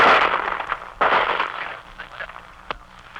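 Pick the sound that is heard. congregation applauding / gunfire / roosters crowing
gunfire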